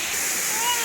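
Waterfall at Khuludi Mahadev Temple in Odisha, a steady broadband rush of falling water, close and fairly soft, with no break across the short stretch.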